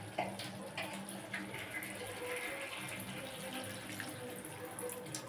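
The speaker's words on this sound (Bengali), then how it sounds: "এই অল্প জলই দিলাম" A little water is poured into a pan of small fish and potatoes with onion stalks, a soft steady trickle and splash heard close up under a faint background hum, with no talk.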